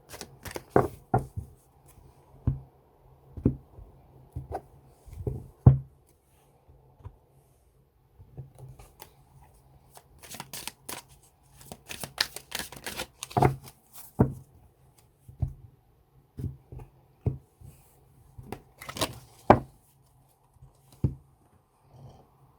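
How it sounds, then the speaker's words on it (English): Tarot cards being shuffled by hand, with irregular bursts of crisp riffling and slapping card sounds separated by short pauses, close and fairly clear in a quiet room. "So let me just quickly shuffle these."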